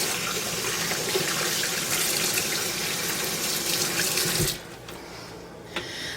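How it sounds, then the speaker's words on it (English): Water runs steadily from a kitchen faucet into a sink for several seconds, splashing over washing hands, then shuts off, leaving a quiet room with a small clunk. "let me get my hands washed real quick because I know the sink is loud"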